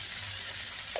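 Stirring bitter gourd and shrimp in a frying pan: a steady close sizzle of frying runs throughout, with a brief scrape of the utensil near the end.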